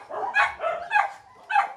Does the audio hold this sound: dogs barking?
yes